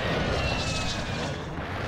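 A precision airstrike aircraft sweeps over in Call of Duty Warzone, a loud, dense roaring rush that fills the whole moment without letup.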